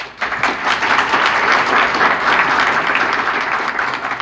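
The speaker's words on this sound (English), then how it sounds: "perhaps merits some additional applause" Concert audience applauds after an improvised passage, a loud, full, sustained burst of many hands clapping that holds steady for about four seconds.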